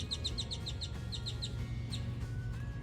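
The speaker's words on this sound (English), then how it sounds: "I love to hear them chirping." Birds chirp in a sunny Texas vegetable garden in Mesquite, with repeated quick bright tweets in bursts of four or five, fairly close, over a steady low outdoor hum.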